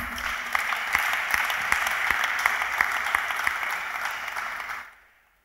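A church congregation at a French-language Bible study claps in a dense, sustained round of applause that cuts off sharply near the end, with nothing else heard.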